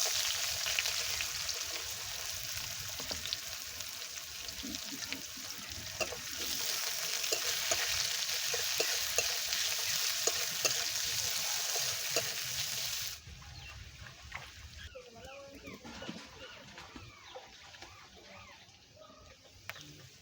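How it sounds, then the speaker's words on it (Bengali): Chopped onion fries in hot oil in a pan that was first tempered with five-spice and dried red chilli, a steady close sizzle that drops noticeably softer partway through, with occasional stirring and faint background sounds. "পেঁয়াজটা ভাজা ভাজা হয়ে এসেছে"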